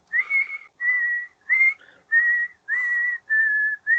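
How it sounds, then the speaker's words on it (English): A woman whistles a haunting tune, with clear sustained notes in short phrases separated by brief pauses, loud and close with no other sound. "she's just whistling this haunting tune."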